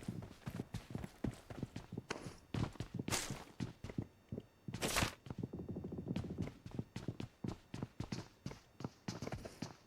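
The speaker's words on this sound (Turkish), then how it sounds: "Aa ayak sesi var." Rapid footsteps in a shooter video game, a steady run of close crunching steps across the whole stretch with a couple of brighter noisy bursts.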